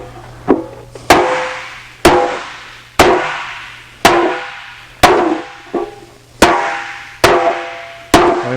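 Hammer blows shaping an aluminium bonnet panel for a Jaguar E-Type, struck roughly once a second in a steady series of about nine sharp, ringing metallic hits, close and loud with no talk.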